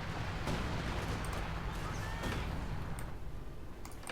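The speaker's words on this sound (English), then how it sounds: "Shells are falling." Artillery shells fall in a Company of Heroes 2 match, Soviets against OKW: a few sharp distant impacts and thuds over a constant rumbling battle bed, fairly quiet overall.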